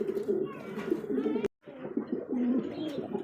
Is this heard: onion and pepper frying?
no